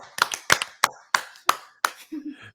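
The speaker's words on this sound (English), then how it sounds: "give some super claps for Super Gavin, Morgan, and John" Hands clap for arriving guests in a handful of sharp, fairly close bursts with uneven spacing, fading out after a couple of seconds as a brief low voice comes in at the end.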